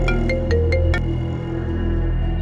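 An incoming call rings on a mobile phone, a melodic electronic ringtone with a few quick repeated chirps at first, then a steady tonal pattern continuing alone.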